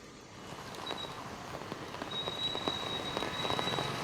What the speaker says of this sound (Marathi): मुसळधार पाऊस आहे तो मुंबईत पडतो आहे